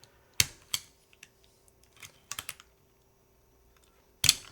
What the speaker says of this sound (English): I do want to just tune the spacebar and also maybe try a different spacebar switch.